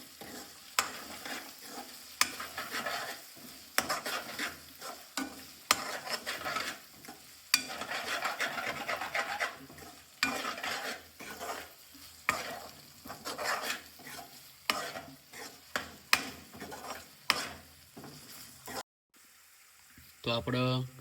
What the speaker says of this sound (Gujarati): સારી રીતે આપણે મિક્સ કરી દઈશું.